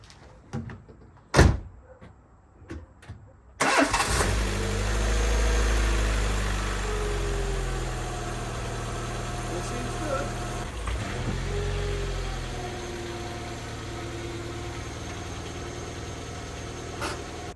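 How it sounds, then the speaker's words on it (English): A few clicks and a door thud, then a Peugeot 306 engine cranks and catches after an oil change, settling into a steady low idle that runs on, close by. "I turn the engine on for the first time post oil change"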